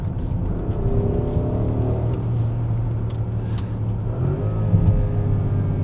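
Audi SQ8 V8 exhaust note under acceleration heard from inside on the road, a steady deep rumble with rising engine tone throughout, moderately loud.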